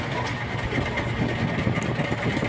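Steady motorcycle engine drone while riding along a road to school, a continuous mid-low rumble with traffic noise, no talk heard.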